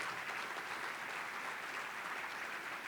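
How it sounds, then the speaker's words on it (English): Steady, distant applause from a breakfast awards meeting audience, an even wash of many hands clapping, quiet and continuous without breaks. "How about a round of applause for Oro Valley Rotary?"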